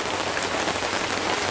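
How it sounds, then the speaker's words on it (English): Steady rain falls by a camper during a stormy day, a loud, even hiss of drops on surfaces with no pauses or voices. "It's been raining all day."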